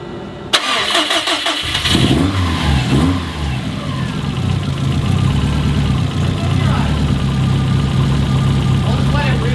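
A 2005 Subaru STI turbo engine cranks and catches, then settles into a loud, steady, slightly uneven idle that rumbles on close by.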